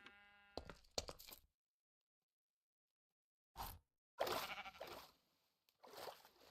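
Sheep bleats in the RLCraft mod of Minecraft, a few short nasal calls separated by silence, close and moderately loud.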